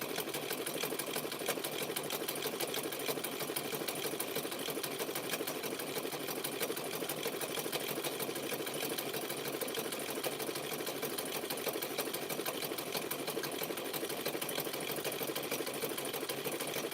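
A sewing machine stitches through thick clothesline rope wrapped in fabric, giving a steady, fast mechanical whirring and rapid needle clatter that runs evenly and fairly quietly throughout, with no talking.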